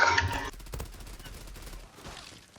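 Gunfire in the Zula video game: a burst of loud shots at the start, then quieter rattling fire and game ambience continuing underneath.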